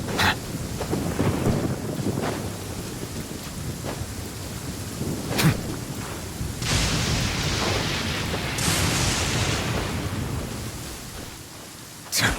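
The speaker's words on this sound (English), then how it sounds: "This heavy rain must be quite an inconvenience for you." Heavy rain pours steadily in a Genshin Impact scene while several loud thunder cracks and rolling rumbles break through at intervals, the downpour continuous and close with no talk.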